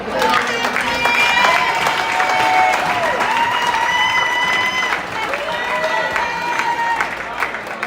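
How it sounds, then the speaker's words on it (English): Audience at an arts event in Wichita Falls applauds artists, with sustained loud clapping and some cheering from a crowd throughout. "let's give them a clap"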